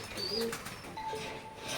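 Oman blood line teddy pigeons coo softly in a brief, low burst, with a faint rustle around them and no voices.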